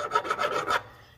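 Short rasping strokes of a file deburring a billet aluminium lathe carriage stop, about five quick rhythmic passes up close before fading out.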